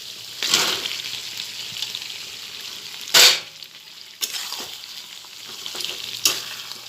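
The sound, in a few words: soaked vegetables added to hot spiced oil, frying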